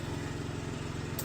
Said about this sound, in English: Generator, the neighbor's generator is on,